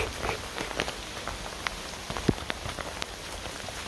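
Steady rain falls through woodland, a dense hiss of drops patters on leaves and ground with scattered louder individual drips, no voices.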